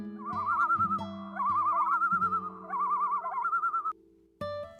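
A Tokolou bird, a hunters' totem species, repeats its alarm call in warbling, wavering notes over low droning tones, several bursts in close succession, then a short pause and a final sharper sound.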